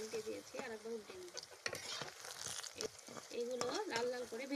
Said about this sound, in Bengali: এবারে গোল গোল করে কোপ্তাগুলোকে ভেজে নেব